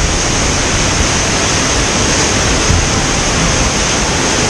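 Tagulanao Falls in Valencia City, Bukidnon, pours as a dense, steady roar of falling water, close and loud with no break or change throughout.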